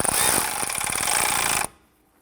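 A ratchet or power tool snugs down the battery hold-down bracket on a 2006-2012 Toyota RAV4 3.5L, giving a loud, close burst of rapid mechanical clicking that stops abruptly after under two seconds.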